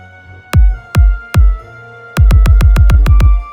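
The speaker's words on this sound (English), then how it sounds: "The kick has to be very punchy." Punchy electronic kick drum hits: three spaced thumps, then a rapid run of eight booming kicks, loud and close with deep low end, no talk.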